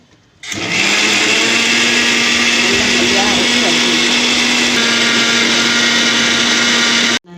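Mixer grinder running steadily as it grinds coconut and cumin with water, a loud continuous whine with a steady motor hum, starting abruptly and cutting off after about seven seconds.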